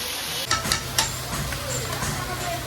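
Ginger, garlic and green chili paste hits a pan in a hotel kitchen during a chicken curry made without oil. It gives a steady sizzle with a few stirring scrapes and clacks, and a voice talks over it.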